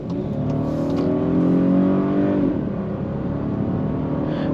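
A 2023 Volkswagen Atlas SEL V6 AWD accelerates hard, its engine revving upward in a loud, steady climb heard from inside the cabin, then easing as it shifts and settles into a smoother drone, with no talking.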